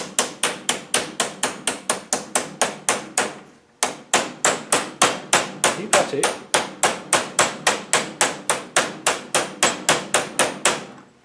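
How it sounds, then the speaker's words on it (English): Steady, evenly spaced hammer taps on a Rover V8 hydraulic tappet, around thirty light strikes in quick rhythm with a brief pause, close by; a voice speaks briefly between them. "Just gently with a hammer."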